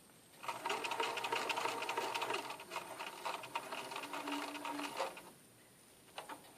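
A sewing machine stitches a patch pocket onto fabric in a close, rapid whirring run of about five seconds. It then pauses and gives a couple of brief stitches.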